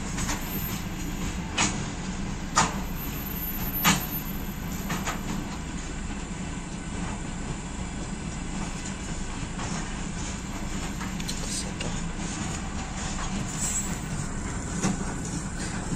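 A train carrying military vehicles passes a level crossing with a continuous loud rumbling roar and periodic sharp clicks and clanks of wheels over rail joints, sustained and fairly close.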